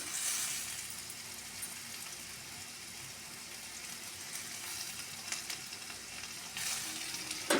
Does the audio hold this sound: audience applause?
no